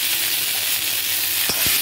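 Ground coriander paste sautés in oil for coriander thokku, a continuous close hissing sizzle with two quick stirring scrapes near the end.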